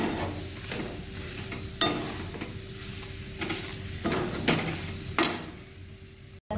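A sweet coconut mixture being stirred and mixed in a pan: repeated scraping strokes at irregular intervals over a soft background sizzle, close and fairly quiet.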